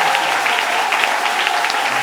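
A church congregation at a sermon applauds steadily, dense hand clapping filling the space with a bright, continuous wash and a few sharper claps poking through, no pauses.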